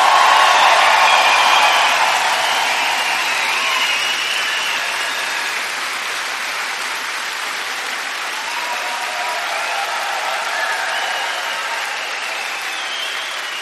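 Audience at a science slam event breaks into applause, loudest at the start and then settling into a sustained, even roar of many hands that carries on without pause.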